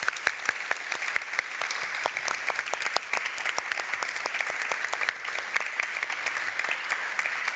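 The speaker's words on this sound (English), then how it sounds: "A big applause, please, for everyone." An audience claps at the close of a climate and biodiversity panel discussion, steady dense applause of many hands filling the room, fairly close, with no talk over it.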